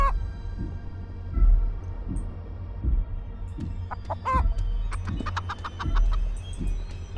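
Chickens from the video game Chicken Feet cluck in short, repeated bursts, fairly close and clear over a low steady game background with no talking.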